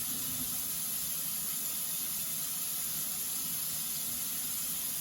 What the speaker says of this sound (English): So next, we're going to rinse the soap off.